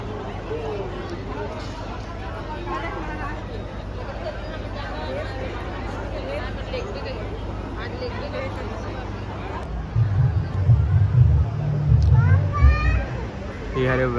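A large crowd of devotees fills a Shiv Mahapuran katha pandal in Kurud with a continuous murmur of babble and children's voices, steady throughout, swelling louder near the end, with someone talking over it.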